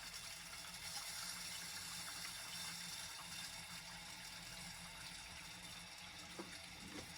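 Water rushes steadily into a whole house water filter housing as the supply is slowly turned on, a constant close hiss and flow with no talking.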